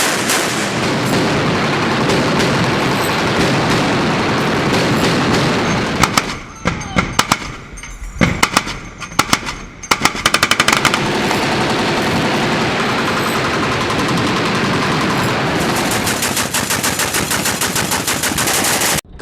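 A Phalanx CIWS M61 Vulcan 20mm Gatling cannon fires in long, dense continuous bursts, a loud ripping roar broken midway by a few seconds of sparse pops and echoes before resuming at full intensity.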